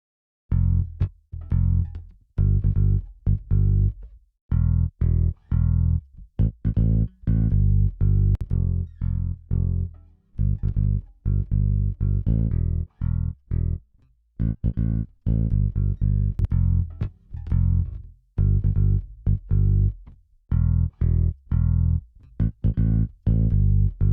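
A dry, clean bass guitar with no effect plugins plays a busy, repeating line of plucked notes with short gaps, steady and loud with no other instruments.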